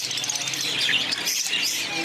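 A dense chorus of small cage birds in an aviary, Java sparrows, zebra finches and lovebirds, chirps and tweets continuously, loud and busy, with no pauses and no talking.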